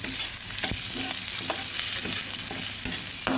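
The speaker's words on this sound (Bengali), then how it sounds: "ভালোভাবে ভেজে নেব" Chopped onion frying with ginger paste in a pan for a prawn malai curry, a steady close sizzle broken by several sharp stirring scrapes, with no talk.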